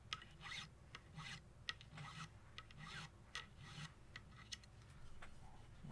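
A fine file rounding over the wooden edges of a kit guitar body, heard as repeated soft rasping strokes in an uneven back-and-forth rhythm, close and fairly quiet, with no talking.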